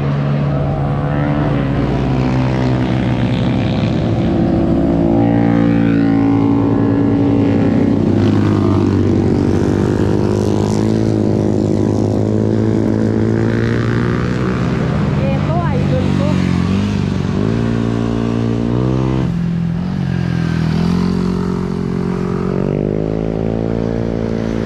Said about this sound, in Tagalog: Paliparan ka ng drone yan.